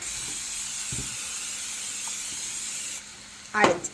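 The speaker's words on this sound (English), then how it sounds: "Gonna spray it with some olive oil real fast." A brief hissing spray of olive oil onto a hot pan bursts out near the end, following a long stretch of steady background hiss with a couple of faint clicks.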